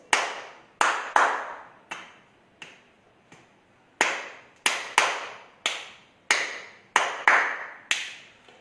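Hand clapping marking a Carnatic Adi tala in khanda (five) count during a Bharatanatyam alaripu performance; sharp, close, solo claps in a steady repeating pattern with short gaps, each ringing briefly in the room.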